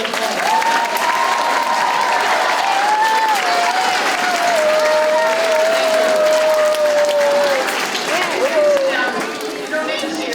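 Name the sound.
school assembly applause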